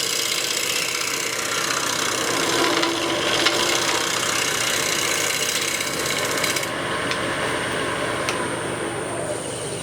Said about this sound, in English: you can turn the gouge up on its side and just slightly back from 90 degrees and use it as a scraper on the face